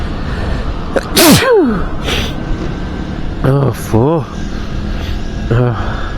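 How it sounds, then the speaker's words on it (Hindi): One sharp, loud sneeze bursts out inside a car, followed by a couple of quieter vocal sounds and breaths, with steady cabin noise underneath. "ठंड लग रही है ना, उससे छींक आ गई यार"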